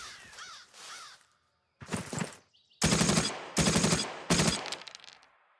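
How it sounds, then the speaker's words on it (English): Heavy machine gun fire in a World War II strategy game, with loud rapid bursts in three separated volleys following earlier short sounds and a brief silence. "So that's an HMG."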